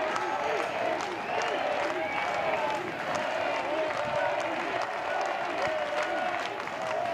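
Louisville home crowd at a college baseball game against Miami, cheering and applauding steadily throughout, a dense continuous roar with clapping building as the count runs in the batter's favour; no talk over it.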